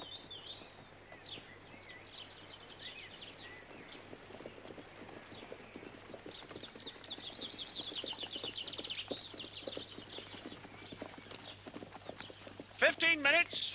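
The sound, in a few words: horses clip-clopping on a road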